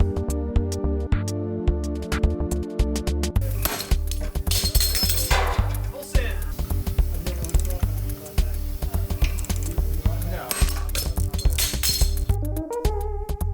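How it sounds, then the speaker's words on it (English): Metallic clinks and ratcheting knocks as a separator tool pops the tie rod ends loose on a VW Bus steering linkage, with sharp mechanical hits clustered in the middle, all under steady background music. "So now we can pop these loose with our separator tool."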